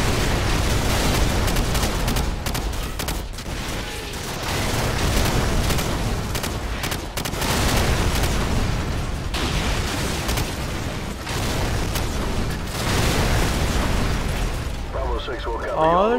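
Heavy artillery shells pound a battlefield in Call of Duty 4: Modern Warfare, a near-continuous barrage of loud, rumbling blasts rolling over one another with brief dips between volleys, radio chatter faintly beneath.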